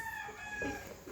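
Rooster crowing faintly in the distance on a farm, a single short call over a steady background hum.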